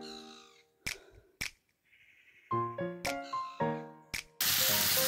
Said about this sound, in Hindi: सुबह सुबह चिड़ियों की चहचहाट कितनी अच्छी लग रही है